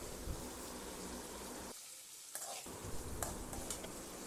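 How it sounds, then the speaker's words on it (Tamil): Onions and garlic frying for a fish kulambu, a dense close sizzle with stirring, briefly cut to near silence midway before the sizzling resumes, no speech. "வெங்காயம் பூண்டு எல்லாமே நமக்கு நல்லா வதங்கி வரணும் நல்லா பொறுமையாக கலந்து விட்டுடலாம்"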